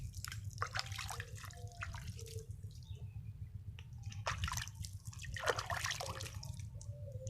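Insecticide and fungicide solution is poured and splashed over banana seedlings, giving irregular wet trickles and drips up close over a low steady hum, with no talking.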